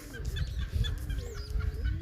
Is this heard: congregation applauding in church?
no